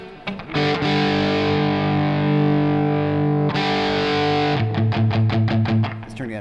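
An electric guitar runs through a Klon boost pedal with the mids turned up, ringing sustained, driven chords that fill the mix, then breaking into short, rhythmic strums at the end, loud and alone with no talking.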